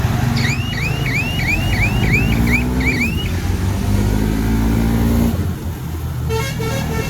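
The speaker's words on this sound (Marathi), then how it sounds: "आमच्याकडे पण एक हॉर्न आहे" A loud warbling motorcycle horn sounds in quick repeated chirps over a roaring engine and road noise on a night ride on modified motorcycles, then a brief rapid beeping near the end.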